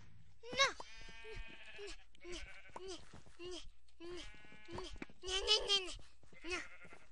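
Sheep bleat in a video game, with repeated loud, wavering bleats close up in a steady series, separated by short pauses.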